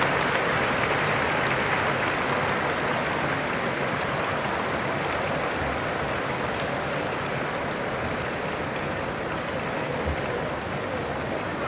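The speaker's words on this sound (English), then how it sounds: "Rousing applause from the audience, and the national anthems will begin." Loud, sustained applause from a large audience at the 1988 closing ceremony of a Russian festival in Delhi, a dense, even roar of clapping that runs steadily throughout with no talk over it.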